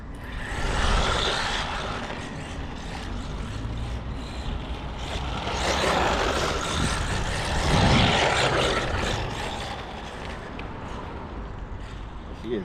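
A Losi NASCAR radio-controlled car on a 3S battery drives past, its electric motor whining loudly with broad, rushing tyre and drivetrain noise that swells and fades. A person talks over it.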